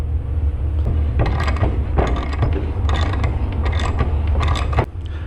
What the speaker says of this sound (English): So we're just going to go in there, put some threads in, blow out the chips